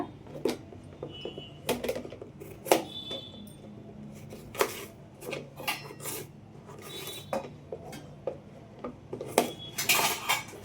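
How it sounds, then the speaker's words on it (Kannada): Knife chopping a peeled cucumber into small pieces on a cutting board for cucumber palya, giving sharp, irregular clicks and taps close by with no talking. "ಇದು ಸಿಪ್ಪೆ ತಕ್ಕೊಂಡಿದ್ದೀನಿ, ಕಟ್ ಮಾಡ್ತೀನಿ ಇವಾಗ."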